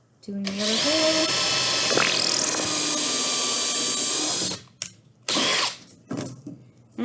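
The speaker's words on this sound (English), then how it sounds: "So I'm just going to drill totally all the way through" A power drill bores all the way through a piece of wood, a steady high whine lasting several seconds, then short bursts of drilling and clatter close by.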